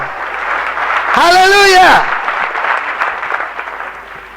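A church congregation claps together, a loud wash of applause over which a voice briefly calls out in a drawn-out shout before the clapping carries on alone.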